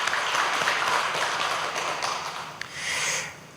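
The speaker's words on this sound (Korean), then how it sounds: "하나님께 영광의 박수를 드리겠습니다." Church congregation applauding together during a Sunday worship service, a steady dense wash of clapping that holds for several seconds and swells again near the end, with no talking over it.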